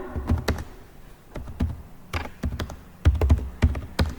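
Fingers type an email on a computer keyboard, irregular bursts of soft key taps and heavier thunks, close and moderately loud, with no talking.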